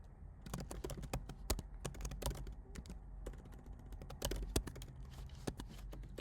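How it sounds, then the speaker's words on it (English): Fingers typing on a desktop computer keyboard while entering an address, a quiet, continuous patter of rapid key clicks with occasional louder strokes and no speech. "and I typed my address."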